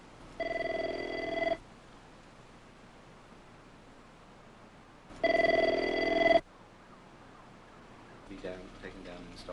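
A telephone bell rings in two separate long bursts several seconds apart, standing out clearly over a steady background hiss, with faint voices at the end.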